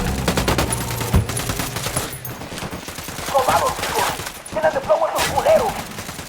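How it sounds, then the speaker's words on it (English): Rapid bursts of automatic gunfire and overlapping shots rattle through a firefight at a cartel checkpoint ambush in Ghost Recon, loud and close, with shorter volleys breaking off toward the end. "Opening fire."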